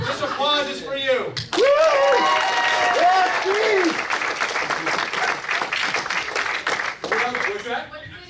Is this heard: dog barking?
no